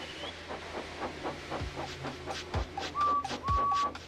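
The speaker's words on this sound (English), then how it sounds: "So they lit his fire, made lots of steam, and Edward puffed away" Steam locomotive puffing in a rhythmic series of chuffs at a steady beat, with a sharp whistle-like tone near the end and faint hiss underneath, no talk.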